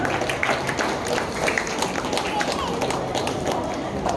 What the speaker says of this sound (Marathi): सगळ्यांनी जोरदार टाळ्यांनी त्यांचं स्वागत करावं